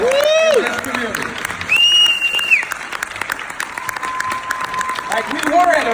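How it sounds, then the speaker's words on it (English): A banquet crowd applauds steadily through the whole stretch while a voice calls out over the clapping and brief whoops rise from the room. "We need to give these young men the round of applause they deserve for what they're doing in this community."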